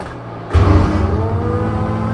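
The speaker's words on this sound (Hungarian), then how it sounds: "Hogy elengedem egy másodperc a gázt, olyan durva kipufó, hogy ez hihetetlen." A car engine with a loud, rough aftermarket exhaust bursts in abruptly partway through, then keeps up a heavy rumbling drone close by, consistent with exhaust popping as the throttle is released.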